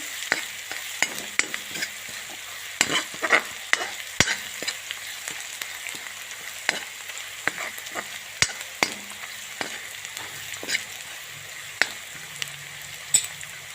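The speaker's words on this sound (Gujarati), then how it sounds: "એને પણ ડુંગળી થોડું સરસ મજાનું શેકી દેવાનું છે." Onion frying with garlic, ginger, green chillies and turmeric for a raw banana curry sizzles steadily in a pan, with regular spatula scrapes and taps throughout and no voices.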